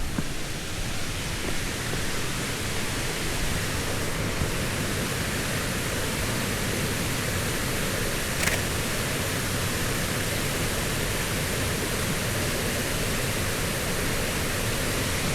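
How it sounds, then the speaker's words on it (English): A waterfall in Cuyahoga Valley National Park, running with more water than usual, roars as a steady, full-bodied rush of falling water, close and constant throughout with no other sounds on top. "it sounds like we've got more water than usual too"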